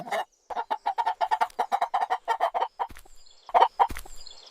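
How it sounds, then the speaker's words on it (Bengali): Chickens cluck in a fast, steady series of short close calls, followed by a few louder squawks and rustling near the end, with no talk over them. "কিরে এই শব্দটা চেনা চেনা আহ কি সুন্দর মুরগিরে বাবা"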